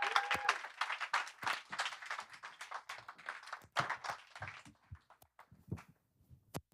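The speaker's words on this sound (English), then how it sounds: "Please give him a round of applause." An audience claps at a startup summit, the applause moderately loud and uneven, then thinning out into a few scattered claps and light taps toward the end.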